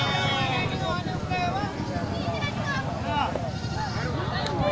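Sheep bleat in short wavering calls at a busy Indonesian livestock market for goats and sheep, mixed into steady crowd chatter and nearby talk that runs throughout.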